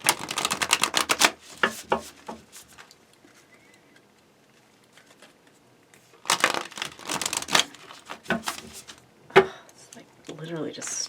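A deck of tarot cards being shuffled by hand, quick rapid riffling and slapping bursts in two runs separated by a quiet pause, close and crisp with no talk over it.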